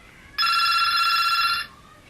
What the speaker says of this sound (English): Just while the phone rings.